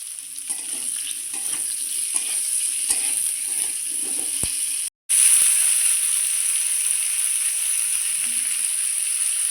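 Green chilies and onion frying in hot oil while a Bengali fish curry with green banana is cooked, giving a steady, close, bright sizzle throughout with one brief cut-out in the middle.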